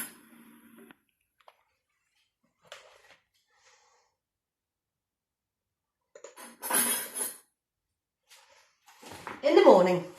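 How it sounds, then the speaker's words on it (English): Knives and forks clink sparsely against plates in quiet room tone, with a few louder bursts of clattering and a voice speaking briefly. "You can hear the knives and forks, can't you? You can hear all the cutlery."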